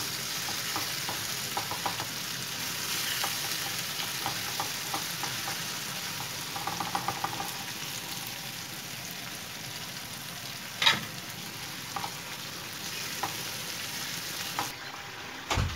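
Tomato paste sauce sizzling and frying steadily in a pan, with occasional soft stirring scrapes and small clicks throughout, close and moderately quiet, no talking.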